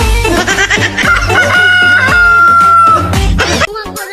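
A rooster crows loudly and close by in one long, wavering call, mixed with clucking fowl and other busy background sounds.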